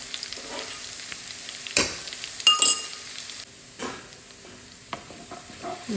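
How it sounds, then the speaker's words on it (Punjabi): Crushed garlic frying in a pan for vegetable pulao, a soft steady sizzle with occasional sharper clinks and stirring scrapes of a utensil against the pan, nearby and without talk. "ਚਲੋ ਜੀ ਹੁਣ ਇਹਦੇ ਵਿੱਚ ਕੁੱਟਿਆ ਹੋਇਆ ਲਸਣ ਐਡ ਕਰ ਦਾਂਗੇ"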